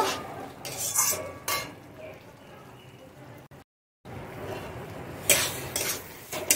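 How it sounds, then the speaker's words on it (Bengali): Kofta masala being stir-fried in a pan, with intermittent scraping and clinking of a spatula against the pan, soft sizzling between strokes, and a brief dropout midway. "একটু ভালোভাবে কষিয়ে নেব"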